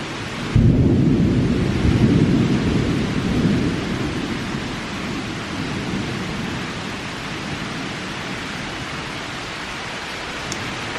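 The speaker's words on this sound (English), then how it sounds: "Another day, another loud thunderstorm." A loud thunderstorm opens with a sudden heavy thunder crack and a long rolling rumble. Steady rain noise continues underneath and carries on alone as the thunder fades.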